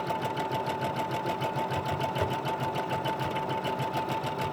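Sewing machine zigzag stitching down the middle of fabric, a close, steady rapid mechanical whirr with a fast even needle rhythm, running continuously with no talk.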